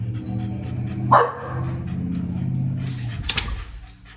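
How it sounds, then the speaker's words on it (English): A dog gives one sharp alert bark, then a quieter yip a couple of seconds later, over a low steady background hum. "that one alert bark may always be there"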